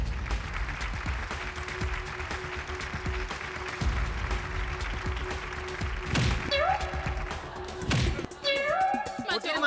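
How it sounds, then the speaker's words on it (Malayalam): An audience claps to cheer on a tile-breaking attempt by a karate performer, steady applause mixed with thumps and chatter, with voices talking over it. "എല്ലാവരും കൈയടിച്ച് പ്രോത്സാഹിപ്പിക്കുക"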